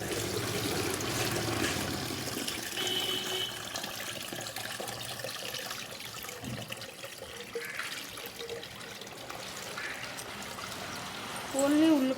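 Liquid plant booster poured through a filter, a steady close trickle and splash running under the whole stretch, with talk over it.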